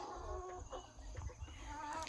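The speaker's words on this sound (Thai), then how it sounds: "ไก่เบตง" Betong chickens clucking on a farm in Ratchaburi, a busy, close cluster of overlapping calls over steady farmyard background noise.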